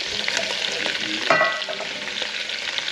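Onions and peppers sautéing in a pan among browned bits left from cooking sausage, a steady close sizzle with stirring scrapes and one brief louder clatter midway, no voices.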